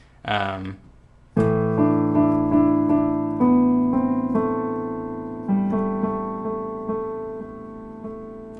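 A solo piano plays the ending of a song after a brief vocal-like note, chords ringing and gradually slowing toward the end, fairly loud and close.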